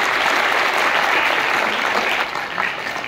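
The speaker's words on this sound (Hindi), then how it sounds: "एक बार जोरदार ताली।" A loud round of applause from an audience at an event for an LIC insurance agent, many hands clapping densely and evenly, then dropping slightly in volume near the end.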